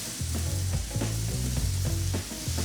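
Onions sizzle on a hot griddle beside burgers with kraut juice, a steady close hiss under low rhythmic tonal thumps and clanks from nearby kitchen activity.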